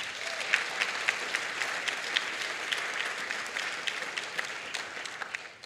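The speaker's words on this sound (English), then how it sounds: "I think we can give that a round of applause." An audience at a community assembly applauds steadily, dense clapping sustained at an even level for several seconds before easing off slightly at the end.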